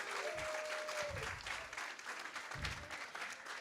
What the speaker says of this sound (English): Give them a round of applause and Senator Comrie.